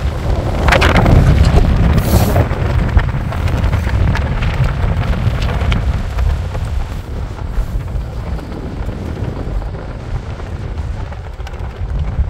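Strong wind buffets the microphone on a golf course in Jeju, a steady loud low rumble with gusty swells throughout and no other clear sounds.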